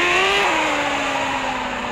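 Car engine in the mobile game Car Parking Multiplayer, a steady synthetic engine drone with a slowly falling pitch and no talk over it.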